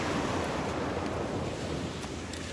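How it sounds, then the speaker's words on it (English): Ocean waves break on a nearby shore in a steady, loud wash of surf with a gusting, wind-buffeted rush and no voices. "Yes, the waves sound amazing."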